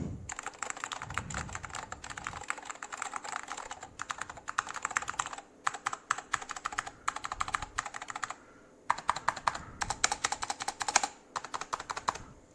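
Rapid clicky typing on an old keyboard fitted with salmon Alps switches, recorded close with the mic held down near the keys, in steady bursts with a few short pauses.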